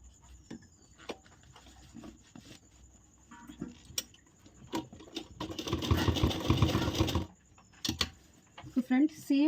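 Stitching on blouse lining, a sewing machine runs in one loud burst of a few seconds between quieter handling sounds, with a voice speaking near the end.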